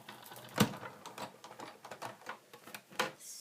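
Scissors snip through paper to cut out a flower shape, a series of quiet, irregular clicks and crisp cuts close by, with one sharper snip early on.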